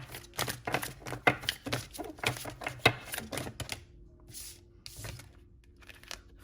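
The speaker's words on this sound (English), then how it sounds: "I'm going to shuffle." An 18+ oracle card deck being shuffled by hand, a quick run of crisp riffling card snaps close up for a few seconds, then tapering to a few quieter shuffles and near silence.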